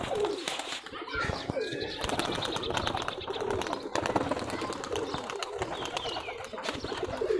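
Gorra pigeons, tumbler-type pet birds from a Rajshahi local flying stock, coo and murmur in a busy, noisy loft setting, with wing flaps and chatter of many birds blended with background voices.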